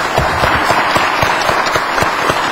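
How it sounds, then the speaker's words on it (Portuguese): Loud, close applause from an audience at a book launch and author talk, many hands clapping in a dense, uneven wash with a few sharper individual claps standing out throughout. "vamos dar umas batidas de palmas"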